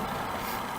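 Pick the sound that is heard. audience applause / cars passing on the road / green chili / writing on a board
cars passing on the road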